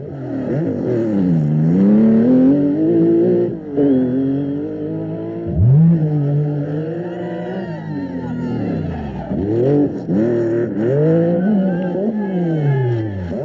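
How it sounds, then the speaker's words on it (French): A Porsche rally car at the 1985 Rallye des Garrigues roars loudly and close, its engine note climbing and dropping through repeated revs and gear changes, with a brief dip and a tyre scrabble. "on retrouvait, avec beaucoup de plaisir, Béguin sur une très belle Porsche"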